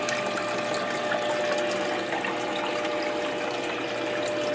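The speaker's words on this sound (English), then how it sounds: "All the black and heavy stuff goes down into the bottom, and the water runs over the side," Recycled water spilling over the side of a bucket during gold prospecting cleanup, a continuous splashing trickle with the steady hum of a pump underneath, fairly close and constant.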